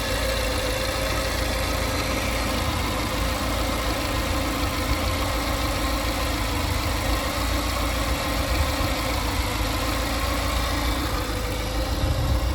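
A 1988 Lancia Delta HF Integrale's 2-litre, 8-valve engine idles steadily with a low, even rumble, close by and continuous throughout, no voices.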